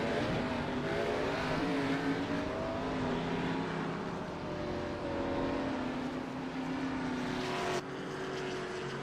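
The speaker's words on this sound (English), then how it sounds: "Here they go, rolling off of pit road." NASCAR Xfinity race cars at Homestead-Miami rolling off pit road, a steady layered engine drone from the field with shifting pitches that swells and eases over several seconds, with no talk.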